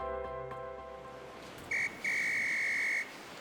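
A lifeguard on the beach blows a whistle in two shrill blasts, a brief one and then a longer held one of about a second, loud and clear over a steady background hum.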